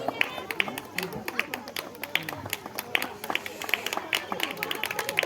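Audience clapping at a prize-giving ceremony for a Bhagavad Gita recitation contest and yoga show, many hands beating in a fast steady rhythm, moderately close, with voices murmuring underneath.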